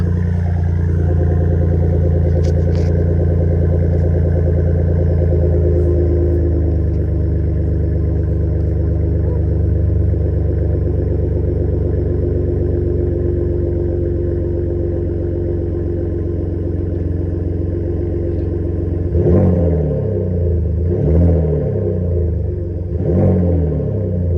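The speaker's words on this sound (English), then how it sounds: "See how she sounds revved up." A 2017 Ford F-150 EcoBoost pickup with an aftermarket Flowmaster muffler idles with a deep, steady exhaust, then near the end the engine revs up in several sharp bursts, loud and close.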